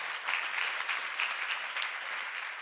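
Church congregation applauding for Jesus during a healing testimony service, a soft, continuous blur of many hands clapping at moderate distance, steady and unbroken.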